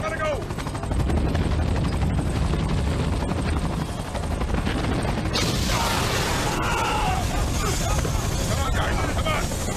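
A helicopter's rotor churns loud and continuous in a chaotic action scene near a reactor, with bursts of gunfire and shouting voices mixed over it.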